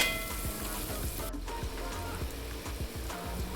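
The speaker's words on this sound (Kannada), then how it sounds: "ಇದು ಚೆನ್ನಾಗಿ ಫ್ರೈ ಮಾಡಬೇಕು ನೋಡಿ, ಎಣ್ಣೆ ಬಿಟ್ಕೊಬೇಕಿದ್ರಲ್ಲಿ" Masala with chilli fries in oil for egg biryani, giving a dense, continuous crackling sizzle close up. It stays loud and even throughout, with no voices.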